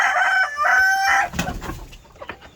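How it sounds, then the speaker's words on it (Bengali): A village hen sitting on its nest gives a string of loud, close, drawn-out clucking calls, then fainter scratchy rustling and a few soft clucks. "তো আমাদের এই একটা মুরগি বসেছে।"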